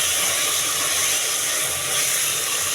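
Turmeric and chili powder sautéing in a pan, a steady dense sizzle and hiss that runs without a break, loud and close, with no talking.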